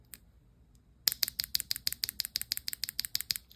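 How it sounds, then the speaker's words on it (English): Sylvia switches on a WhatGeek Luminkey98 keyboard typed at a steady pace after a short silence, about twenty crisp, moderately loud keystrokes in a quick regular rhythm, heard close up with no talking. "These switches right here are the Sylvia. So let's get the sound test for this."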